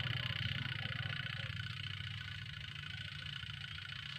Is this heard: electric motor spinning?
yes